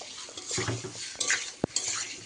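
Country chicken masala braising in a pan, with a spoon scraping and stirring through the thick mixture under a low sizzle and one sharp metallic knock against the pan.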